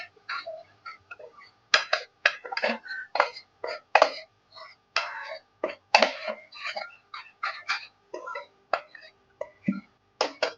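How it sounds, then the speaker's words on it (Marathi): A spoon stirring dal palak in a pot on a home stove, giving a string of irregular clinks and scrapes against the pot, close and moderately loud. "झाकण काढते आणि परत चांगलं ढवळून घेते"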